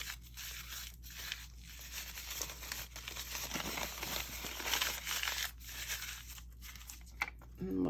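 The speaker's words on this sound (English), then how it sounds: "I'm going to crumple this up" Brown Amazon packaging paper being crumpled and crinkled by hand, with dense crackling bursts separated by short pauses, loud and close for several seconds.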